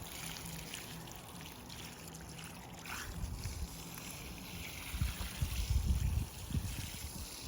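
Water gently splashing and trickling at close range, growing louder in brief bursts toward the end, with no voices.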